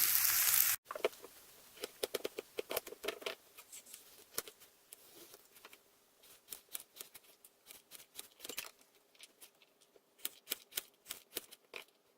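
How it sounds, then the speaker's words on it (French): Knife chopping carrots on a cutting board in quick, irregular runs of sharp taps, close and clear with no talk, after a brief loud burst at the start. "je vais couper mes carottes."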